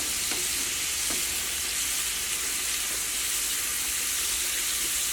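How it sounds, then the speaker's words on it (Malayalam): Potato French fries fry in hot oil over a high flame, giving a continuous, dense sizzle and bubbling hiss that stays steady throughout with no voices. "തീ അത്യാവശ്യം നന്നായിട്ട് കൂട്ടി വെച്ചിട്ട് തന്നെ ഫ്രൈ ചെയ്തിട്ട് എടുക്കണം കേട്ടോ"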